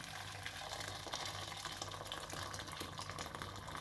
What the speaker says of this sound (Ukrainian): заливаємо кипятком